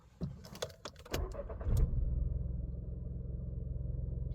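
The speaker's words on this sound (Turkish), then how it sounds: "Motoru çalıştırıyorum." A car's engine is cranked and catches, then settles into a steady, fairly loud idle rumble after some brief clicks and key jangling, with no talking over it.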